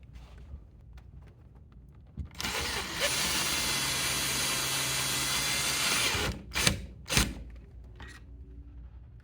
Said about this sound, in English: I've gone ahead and put a screw in on my new mounting hole around here